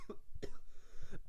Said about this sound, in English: I get this cough this time of year